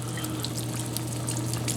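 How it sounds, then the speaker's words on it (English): Worcestershire sauce is poured into a pot of leftover brisket pot pie filling, giving a brief, steady liquid trickle over a low constant hum. "we're going to add a couple of shots of the W sauce"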